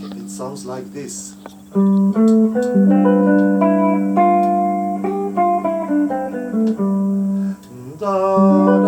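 A mixolydian scale is played on an electronic instrument over a sustained low drone, bright synth notes stepping up and down in an even run, loud and close.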